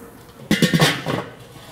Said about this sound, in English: All right, let's get this lid on here.